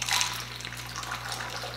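A martini poured from a thermos-like cocktail shaker, a continuous gushing stream of liquid into a glass, close and steady under a low background hum.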